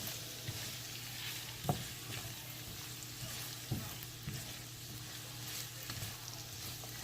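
Squash pieces sizzle and fry in oil in a pan, a steady soft crackle with a few light scrapes and taps as they are stirred around.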